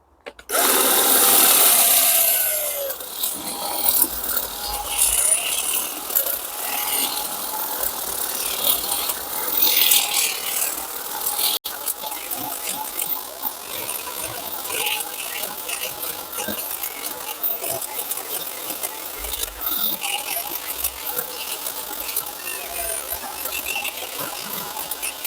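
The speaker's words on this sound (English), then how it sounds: "the battery operated hedge trimmer. It's time to take back all the brambles." A battery-operated hedge trimmer cuts back brambles in a garden, its steady mechanical chatter running unbroken for the whole stretch at a fairly close, even level, with brief scraping and snapping as stems are cut.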